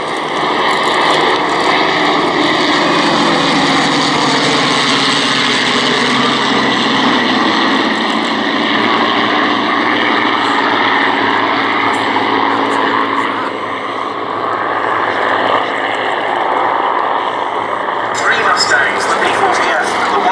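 Vintage warbirds including a Wildcat, Catalina, C-47 Skytrain and B-17 fly past at the Duxford air show, a steady loud engine drone filling the air throughout while a commentator talks over it.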